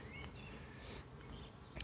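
A cluster of honey bees gathered at the foot of a hive hums with a steady, close buzzing drone, individual bees passing near now and then.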